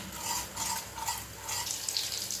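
Butter simmering into ghee in a pan bubbles with a soft, steady sizzle while a spoon stirs it in regular repeated sweeps, close and moderately loud, with no talking.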